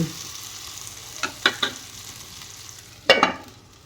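Bottle gourd sambharo being sautéed and stirred in a pan, with a few short scraping stirs and one louder burst of sizzle over a soft, steady frying background, no talk.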